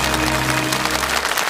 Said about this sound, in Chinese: 那我们也把掌声送给这个我身边的小个子女生张饶